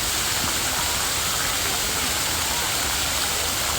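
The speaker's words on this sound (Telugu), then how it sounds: "ఇక్కడ మన వాటర్ ఫౌంటైన్ ఉందని చూడండి" A water fountain in NTR Garden, a park in Hyderabad, giving a constant loud rushing splash of falling water that fills the whole moment without pause.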